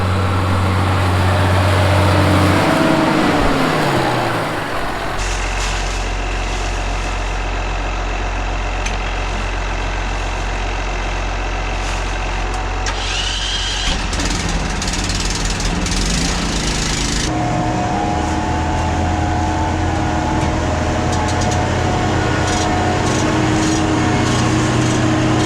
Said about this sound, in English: I hear a Cummins engine a blaring.